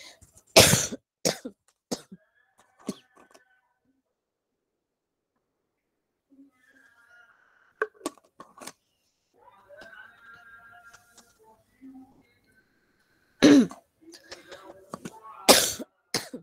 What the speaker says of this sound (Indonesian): Nah, tuh kan saya batuk lagi.